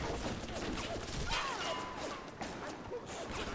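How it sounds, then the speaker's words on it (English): Enemy gunfire and a friendly turret shooting back in BioShock, heard as a steady mid-level patter of shots and crashing impacts with whooshes mixed in, with no talk over it. "They were shooting at us, and our turret is shooting at them."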